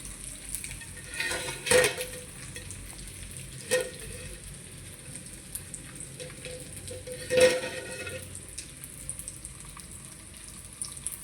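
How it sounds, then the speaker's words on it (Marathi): Fish fries in a pan at home, giving a continuous soft sizzle broken by three louder bursts of spattering as pieces are moved or added, with no talk. "हे म्हाजे फिश फ्राय एक लोट जाल्लो आसा, दुसरो घालतले"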